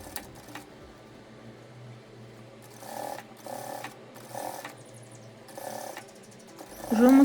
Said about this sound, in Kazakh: Аударған жерімізді майда тігіспен тігеміз.